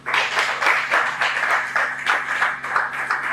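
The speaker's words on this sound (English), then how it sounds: "let me give a big round of applause for the CEO, Winner Jester P." An audience claps steadily at an entertainment company's press conference and launch, a dense, fairly close patter of many hands with no talk.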